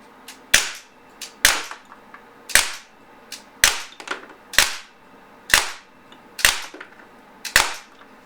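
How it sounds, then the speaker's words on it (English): A Beretta Px4 Storm Recon 4.5mm pellet gun fires eight sharp, close cracks at one target, evenly spaced about a second apart, each followed by a short ringing tail. "I'm aiming at the same spot and just emptying 8 rounds on it."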